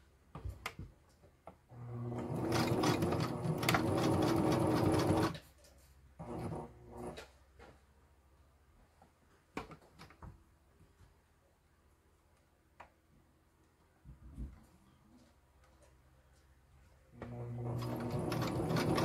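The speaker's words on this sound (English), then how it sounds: "I'm just putting a quick sew on them now" Bursts of a sewing machine running a straight stitch and a bar tack on a homemade food or bear bag, loud close runs separated by quiet pauses and brief handling noises.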